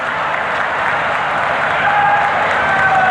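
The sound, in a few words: audience applause welcoming a speaker at a summit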